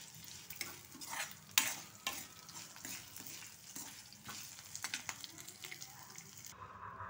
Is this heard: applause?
no